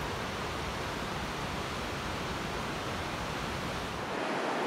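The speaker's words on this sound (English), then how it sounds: "A boardwalk took us down to the Alvar Nunes Cascades." Alvar Nunes Cascades waterfall at Iguacu Falls, a steady, full roar of falling water heard close by from a boardwalk, constant and unbroken with no voices.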